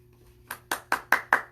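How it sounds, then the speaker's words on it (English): Five sharp, evenly spaced hand claps ring out close and clear during a children's story time, starting after a brief quiet pause. "Every bunny clap."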